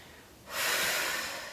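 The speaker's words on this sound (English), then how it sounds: "we'll be breathing in through the nose and out through the mouth" A deep, steady breath is drawn in through the nose during a yoga flow, as in a breathing exercise. It comes after a brief quiet moment, then sounds close and breathy for about a second before slowly fading.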